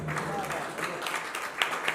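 Applause from the audience at a celebrity charity event, a dense steady patter of many hands throughout, fairly close, with a few sharper claps near the end and some voices mixed in.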